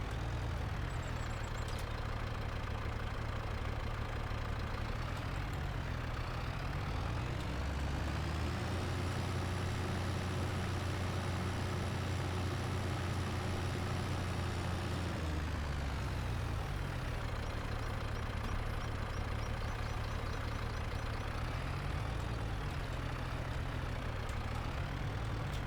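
A tractor engine in Farming Simulator 25 drones steadily and close, its low rumble deepening and strengthening midway before settling back, with no talk.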